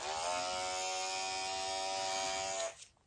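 An Andis hair clipper runs with a steady, close, loud electric buzz for almost three seconds, then cuts off abruptly.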